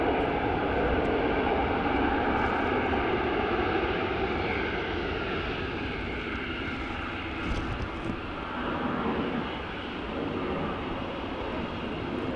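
Eurowings airliner at Dublin Airport, a steady broad engine roar that stays loud and even throughout, easing slightly toward the end, with no voices over it.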